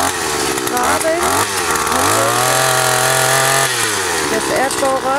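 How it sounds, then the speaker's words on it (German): A powered earth auger digs a hole in garden soil for building a zucchini trellis, its loud engine droning steadily and shifting pitch as it bores down. "Da wird das erste Loch gegraben."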